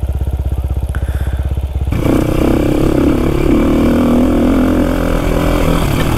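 A motorcycle ridden on a straight road in a landslide-prone hill area pulses at a loud, close idle before the engine opens up into a steady, heavy roar as it rides off.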